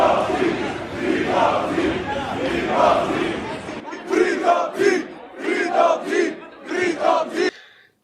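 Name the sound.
crowd of people screaming in the street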